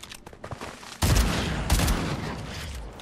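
SMG gunfire in a ranked online shooter bursts out loud and sustained, a rapid fusillade of close shots following a few lighter clicks and taps.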